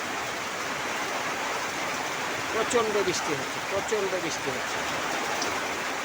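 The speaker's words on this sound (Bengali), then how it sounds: "প্রচণ্ড বৃষ্টি হচ্ছে, মুষলধারে বৃষ্টি যাকে বলা হয়।" Heavy torrential rain pours down steadily around a house rooftop, a dense, continuous hiss of downpour with brief voices murmuring partway through.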